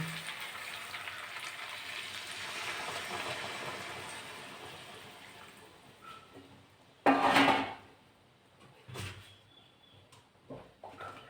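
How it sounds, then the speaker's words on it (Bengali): Hot water poured into a pan of frying chicken and potatoes, a sizzle that fades over several seconds, then a loud sharp burst of hissing followed by a few short clatters and bumps. "আমি এবার গরম জল করে রেখেছি ওটা দিয়ে দেব"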